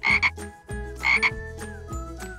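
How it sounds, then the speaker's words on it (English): Green frogs croak in loud, close bursts, two rapid double-croak clusters separated by lower throaty calls, with a backing tone running throughout and no voices. "5 green frogs."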